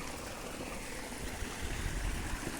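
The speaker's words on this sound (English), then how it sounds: "that water that's running down" Water running down an old channel at a heritage spot in Littleborough, a steady broadband rushing flow that swells slightly louder toward the end, heard alone without talk.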